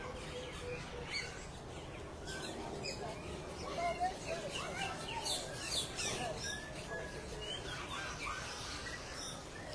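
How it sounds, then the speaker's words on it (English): Birds chirp and tweet at Disney's Animal Kingdom, scattered short calls rising over an outdoor murmur of people and ambient noise, moderately close and fairly faint. "nice, pretty birds"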